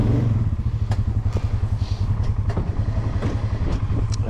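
An ATV four-wheeler plowing snow gives a steady, loud low engine drone that holds throughout, with a few dull thumps and clatters over it.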